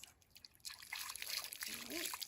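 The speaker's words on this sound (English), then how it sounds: "So with the rest of the water that's in here, that's what I do. I wash my hands." Warm water trickles and splashes as hands are washed after milking a cow, a soft close dribbling and sloshing that grows fuller partway through, with a faint voice underneath.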